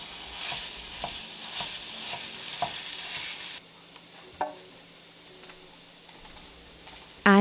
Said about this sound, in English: I'm going to brown up some ground pork for this soup.